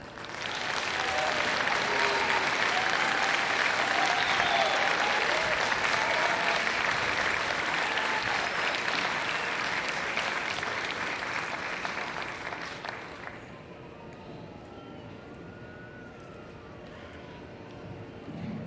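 Audience applause at an evening performance event, dense and loud clapping from a crowd for nearly thirteen seconds, then easing to a softer, thinner patter with some background noise.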